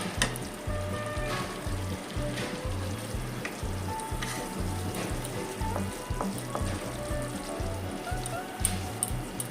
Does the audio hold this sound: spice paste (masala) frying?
yes